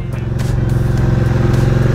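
A Benda Napoleon 450 bobber motorcycle engine runs close by with a rapid, even pulsing throb, loud and continuous for a couple of seconds.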